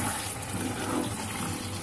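Chicken being stirred and mixed in a pan on a slow flame, a brief steady sizzle and soft scraping close up, with no talk.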